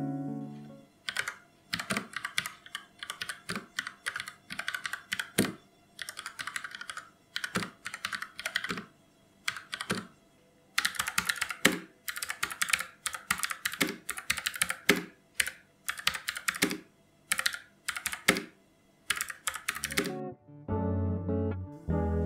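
Typing on Armaggeddon SMK 12R and SMK 9R compact mechanical keyboards with blue and black switches and ABS keycaps: close, crisp bursts of rapid keystrokes separated by short pauses, ending with a few heavier, lower clacks.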